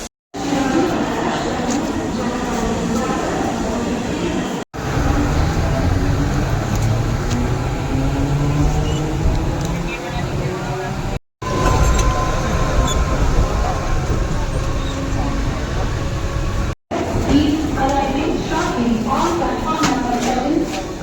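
A local train toward Mulund rumbles along in a steady loud roar with rattling carriages and a brief squeal, near and continuous, broken by a few sudden cuts, voices talking over it.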